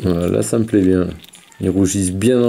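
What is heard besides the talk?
No everyday noises stand out.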